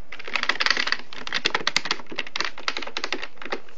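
Fast typing on a computer keyboard: a dense, uneven run of crisp key clicks and clacks, close and fairly loud, continuing without pause and with no voices.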